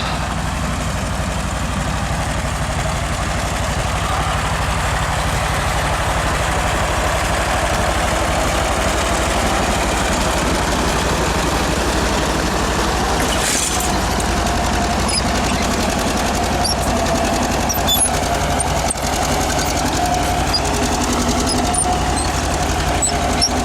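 A 1948 John Deere B tractor pulling a two-bottom rope-trip plow drones steadily, its low engine rumble and vibration continuous and fairly close throughout.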